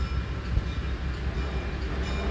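Virginia City train riding the rails, a steady close rumble with low-frequency rolling and rattling of the cars, continuous throughout with no voices.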